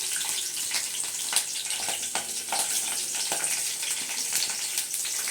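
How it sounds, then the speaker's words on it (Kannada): Green chillies sizzle in a pan of hot oil, with a steady close crackle and spitting pops scattered across the whole stretch, loud and unbroken, with no voices. "ಸ್ವಲ್ಪ ಎಣ್ಣೆ ಕಾಯಿಗೆ ಸ್ವಲ್ಪ ಹಸಿಮೆಣಸಿನ್ಕಾಯಿನ ಹಿಂಗೆ ಒಂದು ಸ್ವಲ್ಪ ಈ ಥರ ಮುರಿದಾರು ಹಾಕಿ"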